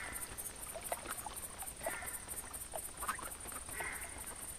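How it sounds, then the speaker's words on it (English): A duck quacks in the hunting game theHunter, a few short, fairly faint calls repeating at intervals over a quiet outdoor ambience with a steady high tone. "The nice loud quack is going to show up as trackable."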